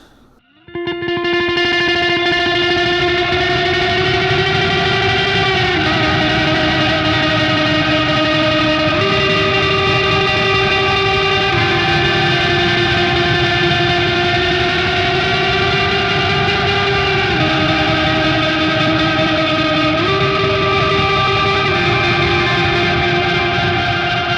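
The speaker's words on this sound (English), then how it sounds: "so you can get kind of that cascading shoegaze effect with putting delay in front" Guitar played through the Archetype: Rabea X plugin with delay placed before the amp, giving a cascading shoegaze wash: sustained distorted chords ring out in dense, continuous repeats that smear together, loud and steady with no talking.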